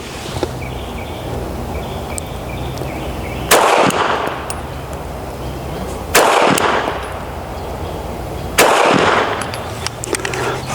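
Three loud, sharp pistol shots from a SIG P365 X Macro fired at an outdoor target, spaced a few seconds apart, each with a short ringing decay over quiet background.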